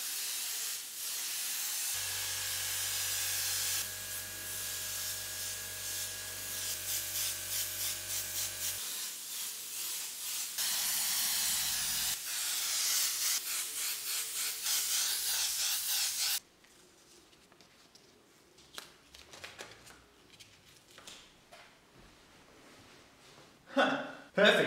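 An airbrush spraying paint over cloud artwork, giving a steady airy hiss in long bursts, with a humming compressor underneath early on, then quieter scraping and handling sounds.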